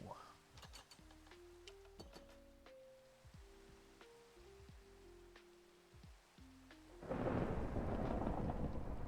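Rain falls steadily during a thunderstorm in the video game Minecraft. Soft tones and clicks play over it, and a louder roar of rain or rumble swells near the end.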